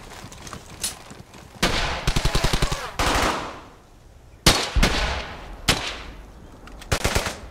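Gunfire in the World War II shooter Brothers In Arms: Hell's Highway: rapid machine-gun bursts with evenly spaced shots alternate with single loud blasts and echoing tails, close and loud.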